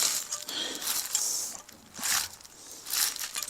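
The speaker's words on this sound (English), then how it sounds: "What we have got to do is take these clips off here." Metal fastening clips pried off car exhaust covers during a decat pipe install, bursts of scraping and clicking metal, close and moderately loud with brief pauses between.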